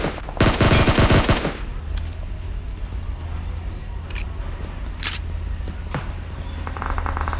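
Scar rifle fired in the PUBG video game, a loud close burst of rapid automatic shots followed by scattered single cracks and faint background game noise.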